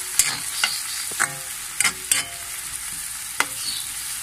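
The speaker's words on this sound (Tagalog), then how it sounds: "Ayan lang po muna natin sandali na medyo maluto yung kamatis." Chopped tomatoes stirred in a hot pan while cooking down for sarciadong tilapia, a steady soft sizzle broken by several sharp clicks and scrapes of a utensil against the pan, close and with no talking.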